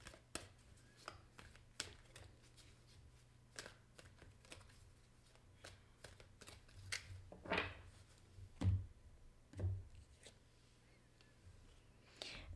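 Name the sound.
cards being shuffled and drawn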